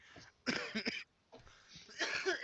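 Several harsh coughs come in two close bursts, loud and near, with a short quiet gap between them.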